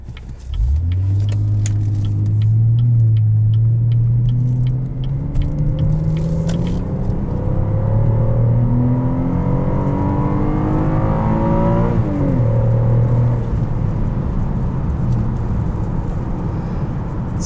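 A 2016 Chevrolet Impala LTZ accelerates hard on a curvy back road, its engine rising steadily through the revs, dropping at each upshift and climbing again, loud and continuous from inside the cabin.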